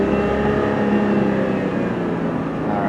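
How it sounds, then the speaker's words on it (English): A gray 2004 Chevy Trailblazer 4x4 accelerating with a possible transmission fault, a steady close engine drone that rises slightly, with no talk over it. "I'm accelerating now, and you can kind of hear it"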